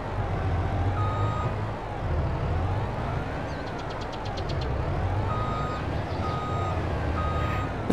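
A truck in Farming Simulator 22 unloading olives gives off steady, evenly spaced reversing beeps over a continuous engine drone, moderately loud and with no talking.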